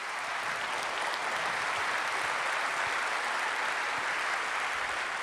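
A civic public affairs audience applauds homeless service providers with dense, steady clapping that fills the whole stretch at an even level, no voices standing out.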